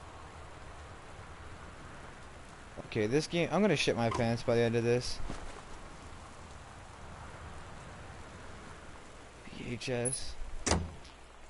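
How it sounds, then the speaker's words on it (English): Steady rain with wind in the video game Gone Home, a constant soft hiss throughout while a person talks over it in two bursts. "The Northwest Weather Service reports high winds and torrential rain conditions."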